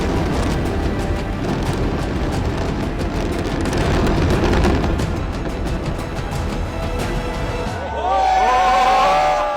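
A long roaring rumble of serial demolition blasts bringing down twin tower buildings, mixed with crowd noise, loud and sustained, then trailing off as distant voices and whistling rise.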